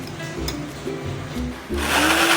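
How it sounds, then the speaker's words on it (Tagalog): A blender whirs as it purees mashed banana, its motor note shifting in pitch in short pulses before ramping up into a louder, steady high-speed spin toward the end. "isali natin sa blender upang gumawa tayo ng puree"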